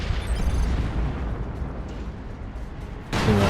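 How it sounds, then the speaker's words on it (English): A Leman Russ Vanquisher tank cannon fires in a Warhammer 40,000 battle game. Heavy booms and rumble fill the moment, and a sharp, loud blast lands near the end amid battle din. "That is a Vanquisher cannon."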